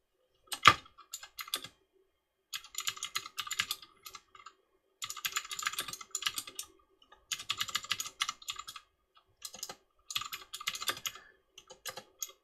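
Computer keyboard typing notes, in quick bursts of close, crisp key clicks separated by short silent pauses.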